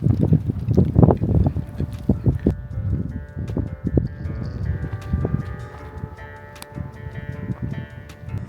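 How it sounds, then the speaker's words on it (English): Strong wind gusts buffet a tent at a Joshua Tree desert campsite, rumbling in heavy, uneven bursts close to the microphone that ease to a steadier, lower roar toward the end. "Ooh, it's still windy."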